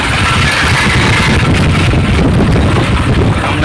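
A motorbike engine drones steadily and loudly while riding along a brick road through a Sundarban village, with rough road noise blended into the continuous hum.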